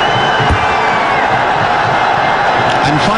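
A large cricket stadium crowd roars and cheers continuously during a one-day international between India and Australia, a dense, loud wash of voices with scattered whoops rising near the end.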